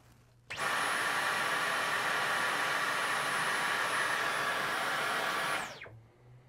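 Dyson V11 cordless vacuum running on medium mode, switching on abruptly into a loud, steady whirring roar with a high motor whine, holding constant for about five seconds before spinning down.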